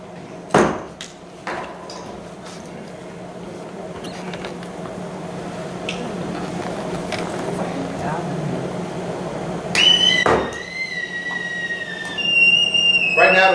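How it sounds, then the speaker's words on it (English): A tea kettle whistle shrills as the liquid inside boils, a sustained high tone rising near the end after clatters and handling knocks, with people talking around it. "Right now, the liquid inside is boiling. Whistle's going off."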